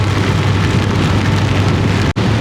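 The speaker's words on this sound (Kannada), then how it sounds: "ಈಗ ಮಳೆ ಸ್ವಲ್ಪ ಜಾಸ್ತಿ ಆಯಿತು ಇಷ್ಟೊತ್ತು ಬರೀ ಡ್ರಿಸಲ್ ಆಗ್ತಾಯಿತ್ತು ಈಗ ಒಂದು ಸ್ವಲ್ಪ ಹೆವಿ ಬರ್ತಾಯಿದೆ" Heavy rain pouring during a motorcycle ride, a loud, dense, unbroken hiss of downpour with a brief dropout near the end, no voices.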